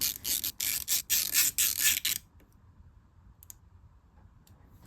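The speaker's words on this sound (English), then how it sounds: "I went ahead and removed the 2 Torx T25 security screws that hold the throttle position sensor in" Torx T25 security screws being loosened from a throttle position sensor on a KTM, Husqvarna or GasGas motorcycle, a quick burst of close ratcheting clicks that stops abruptly, followed by near silence with a few faint ticks.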